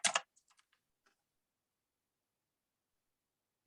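A few quick keystrokes on a computer keyboard: a brief loud cluster of clicks at the start, then a handful of faint scattered taps trailing off into silence.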